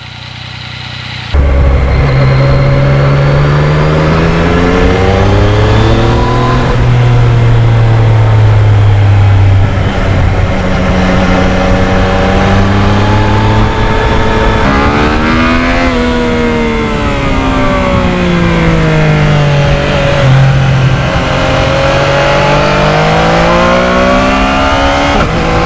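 A 2020 Yamaha MT-09 motorcycle engine roars loud and close throughout a ride, its pitch rising and falling steadily with repeated throttle changes and shifts.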